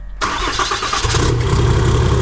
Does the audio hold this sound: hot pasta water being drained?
no